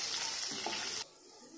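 Dense crackling sizzle of curry leaves and chili frying in hot oil, loud and continuous, then abruptly dropping to a quiet hiss near the end.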